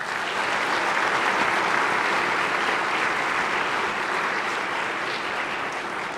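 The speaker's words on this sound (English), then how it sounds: "a warm round of applause" Sustained, dense applause fills a Senate floor session as legislators welcome visiting Hilo pharmacy students, a steady even clapping from many hands throughout with no pauses.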